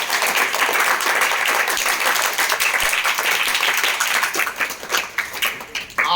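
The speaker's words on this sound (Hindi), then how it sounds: "जोरदार तालियां बजाकर" Loud, dense applause from a classroom audience fills the whole stretch, a steady wash of many hands clapping together, thinning slightly toward the end.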